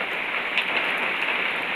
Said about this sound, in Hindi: पर्दा मैंने लगा दिया है तो बारिश फिर भी अंदर आ रही है